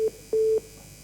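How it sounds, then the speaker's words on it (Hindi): A telephone line tone sounds in two flat electronic beeps, a short one then a longer one, as a call drops during a news broadcast about a Naxal attack in Chhattisgarh. "और लगता है फोन उनका कट गया है।"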